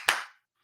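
A single sharp hand clap, loud and close, done in imitation of the Clapper sound-activated light switch, then fading into near silence with a faint trailing noise at the end.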